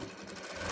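A sewing machine runs steadily while stitching a puff-sleeve baby frock, a brief close whirring hum of fast needle strokes with no pauses.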